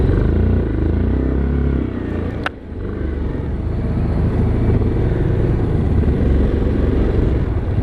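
An ATV engine drones steadily while cruising around Windsor, a continuous low rumble with wind noise and one brief sharp click partway through.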